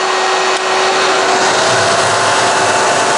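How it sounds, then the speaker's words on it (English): A handheld hair dryer blows steadily and loudly, drawing power from a LEOCH 2000 W LiFePO4 UPS solar generator portable power station, with a constant broadband whoosh and a thin tonal whine and no talking. "I'm now going to go ahead and add the hair dryer to it."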